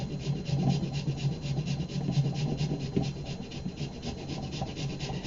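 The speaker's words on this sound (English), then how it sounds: "Our fine grater makes the finest grate of the ginger" Frozen ginger is grated on a fine grater, making a close, steady scratching and rasping with quick repeated strokes in a continuous rough rhythm.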